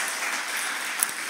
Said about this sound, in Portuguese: Aplauda o Senhor bem forte.